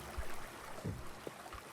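Flowing water placed in the Creativerse video game, a soft, quiet trickling and gurgling with a few small splashy blips, heard alone.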